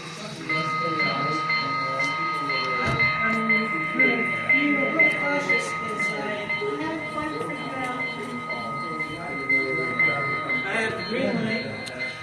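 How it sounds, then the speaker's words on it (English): An H.O. scale model of a Union Pacific FEF-3 Northern type steam locomotive, number 844, running on track, giving a steady layered rumble and hum with sustained whistle-like tones over the twelve seconds, beneath continuous talk. "We have another train coming"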